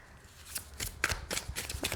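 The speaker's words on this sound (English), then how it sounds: "they shuffle really well in the hand" Glossy tarot cards riffled and shuffled in the hand, a run of close, crisp papery bursts repeating every few tenths of a second, with no voices.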